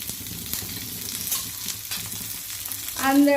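Chickpeas and cashews roast in hot oil in a pan beside half-sautéed green chilies, giving a steady soft sizzle and crackle with occasional stirring scrapes, and a brief voice at the end.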